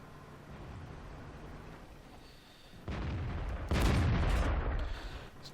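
A Japanese Tier 7 heavy tank, the O-Ni, fires its cannon in World of Tanks, a sudden loud boom that rises out of rumbling engine noise and then rolls on in a sustained heavy roar.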